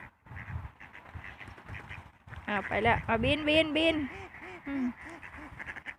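Domestic ducks quack in loud, repeated honking bursts that fill the middle of the stretch, with someone talking before and through them outdoors.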